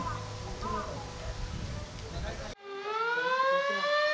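An outdoor siren sounds at 8 p.m. to open a Japanese fire festival, a loud sustained wail that starts abruptly after a stretch of crowd noise and rings out strongly.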